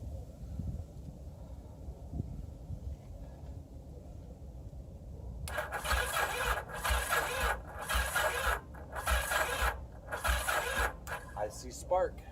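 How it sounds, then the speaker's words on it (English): A 1981 Yamaha XS850 motorcycle engine is cranked over by its starter in several rhythmic bursts with brief pauses between, loud and close, after a stretch of low background noise. "I'm going to crank it over, see if we get any spark."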